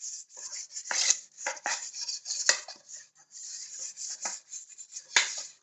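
Greasing a baking dish for an apple crumble: repeated close rubbing and scraping strokes against the dish, with occasional light clinks of a utensil, in an otherwise quiet kitchen.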